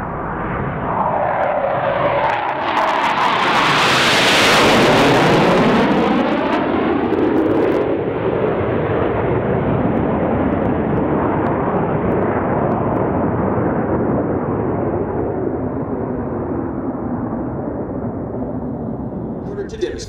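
Blue Angels Boeing F/A-18 jets pass overhead at an air show. A loud roaring jet swells as they approach, peaks, then recedes into a long fading rumble, and a voice comes through faintly underneath.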